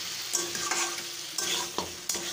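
Boiled mutton being stirred and fried in spices for a mutton and potato curry, with a steady sizzle and a few scraping spoon strokes against the pan, close and fairly quiet, no voices.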